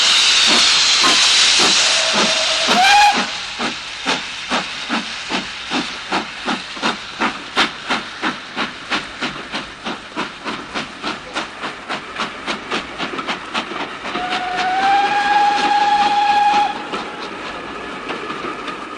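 A steam locomotive starts off with a loud hiss of steam, then chuffs in a steady, quickening rhythm, rail clatter running beneath, while a whistle sounds twice, early and again near the end.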